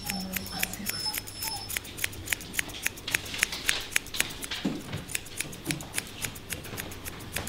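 Scissors trimming a toy poodle's muzzle fur, a rapid regular series of crisp close snips with faint rustling between them.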